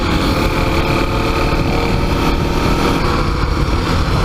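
Kawasaki KLX300 dual-sport motorcycle engine running loud and close, a steady buzzy drone with no letup and no voices.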